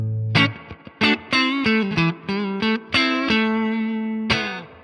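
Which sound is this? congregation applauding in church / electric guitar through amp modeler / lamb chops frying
electric guitar through amp modeler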